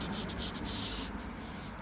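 Sander with 320 grit scuffing Vauxhall Corsa body panels ready for paint, giving a continuous close, faint, rough rubbing hiss with light rhythmic pulsing.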